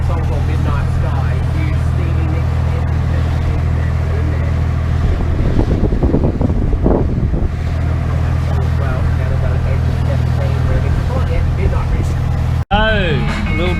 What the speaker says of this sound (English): Oh, a little bit more wind on the bay this afternoon.